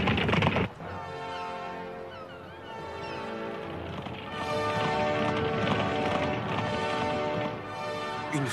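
Hooves thunder in a fast galloping rhythm amid a busy, layered soundscape with music, staying loud and continuous throughout.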